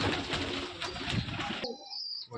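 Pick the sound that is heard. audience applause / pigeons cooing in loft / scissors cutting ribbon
pigeons cooing in loft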